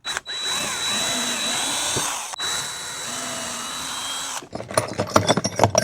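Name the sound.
power drill drilling pilot hole in wood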